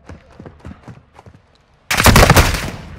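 Loud bursts of rapid gunfire erupt in a Call of Duty Modern Warfare 2 multiplayer match, following softer scattered taps and movement noises, then a dense, close volley of automatic shots that dominates the end.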